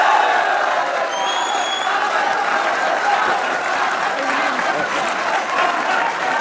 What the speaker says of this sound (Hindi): और अहमद भाई की तरफ से बाबर के लिए तालियां होनी चाहिए।